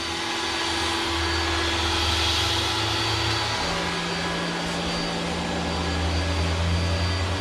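Air compressor running steadily during a SolarEdge midpoint transformer test, a loud continuous droning hum with tonal whine that holds throughout, its low pitch shifting partway through.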